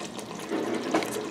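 Homemade sauce bubbles on the stove while cooking, giving a soft, continuous bubbling and popping texture up close for a brief moment.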